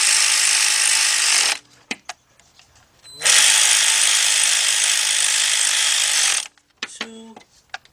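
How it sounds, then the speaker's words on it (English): A cordless 3/8-inch drive ratchet with a shallow 10mm socket whirs loudly and close in two long bursts, with brief clicks and a short ratcheting run between them, during Volkswagen Beetle head gasket and timing belt work. "got my 10mm shallow 3/8 drive with my cordless ratchet, 3/8 drive ratchet"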